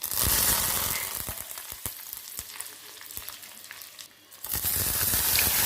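Rice fries with dried red chillies and curry leaves in a village kitchen, giving a steady, loud, dense sizzle with crackling pops throughout, a brief dip near the end before the full sizzle returns.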